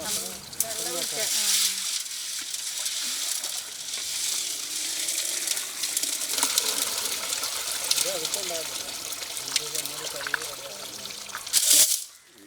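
Water pouring and splashing continuously while clams are prepared, with people talking over it and a louder splash near the end.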